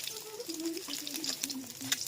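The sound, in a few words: eggs frying in oil in a pan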